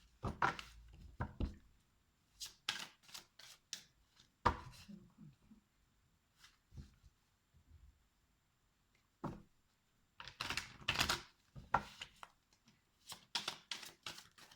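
Cards shuffled during a card reading, heard as several quick papery riffling bursts separated by quiet pauses, close and fairly soft.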